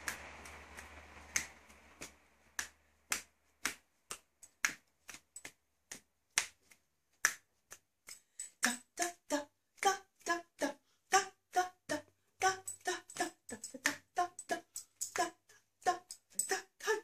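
Crisp finger snaps ring out one after another, sparse and steady at first, then coming in quick irregular bursts, loud and close with silence between.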